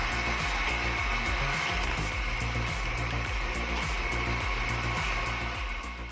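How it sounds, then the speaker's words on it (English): Homemade automatic wood splitter running, a loud, continuous mechanical hum with a steady low drone and faint rhythmic pulsing, heard close up with no talking. "check out this interesting homemade wood splitter. The design and operation are simple, but it works very smoothly and efficiently"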